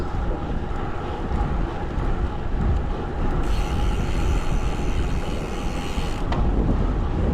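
Wind gusts beneath a road viaduct carrying a provincial road, producing a steady, loud roar with heavy low rumble against the microphone, continuous and close with no voices.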